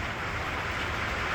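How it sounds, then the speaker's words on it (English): Steady, dense hiss of rain drumming on a roof, constant and even throughout with no pauses. "Sorry for the rain beating on the roof"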